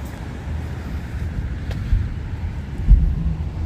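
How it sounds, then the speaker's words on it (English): Gusty wind buffets the microphone on a Malmö waterfront walk, a steady low rumble with a couple of stronger gusts and faint traffic or boat noise behind, no talking. "it's so windy today"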